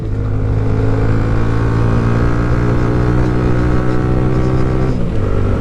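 A Hanway Scrambler 125 motorcycle engine drones loudly and steadily as the rider accelerates along city streets, with a slight pitch shift near the end as it changes gear, and no talking.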